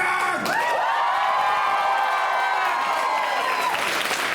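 Concert crowd at a Tampa rock show cheering and applauding: loud sustained clapping mixed with whoops and high shouted cheers, dense and continuous throughout.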